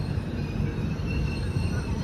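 A passenger train rolls slowly into platform 1 at Vikarabad Junction, with a steady close rumble of wheels on rail and a faint high squeal over a broad, even din.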